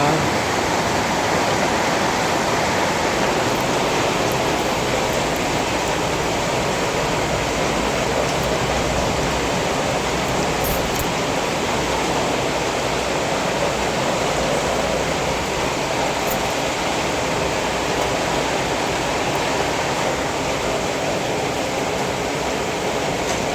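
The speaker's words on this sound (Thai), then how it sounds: "ตอนนี้ฝนไม่ยอมหยุดตกเลยเนี่ย" Heavy rain pours down steadily during a flood-season downpour at a house in rural Thailand, a dense continuous hiss that stays loud and even throughout with no voices.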